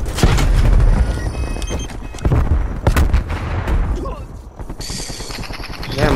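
Rapid bursts of gunfire and sharp shots from a first-person shooter match, including a sniper shot and stun grenades, loud and dense throughout with brief pauses between volleys.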